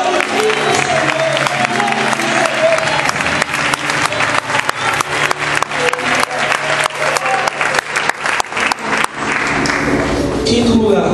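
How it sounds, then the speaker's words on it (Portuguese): A church congregation breaks into loud, sustained applause, with a few crowd voices mixed into the steady clapping. "Aplauda o Senhor."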